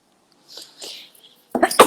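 A sneeze bursts out at the very end, loud and close, after a few softer breathy sounds during an Instagram live session.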